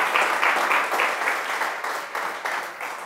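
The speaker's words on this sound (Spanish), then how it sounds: "Démosle un aplauso fuerte a Cristo." A church congregation applauding during a sermon, strong rhythmic clapping that rises and falls in waves, loud and fairly close, with no speech over it.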